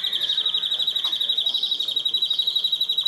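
A songbird at a bird-keepers' song competition in Istanbul sings a steady, rapid run of high, shrill trilled notes that carries on without a break.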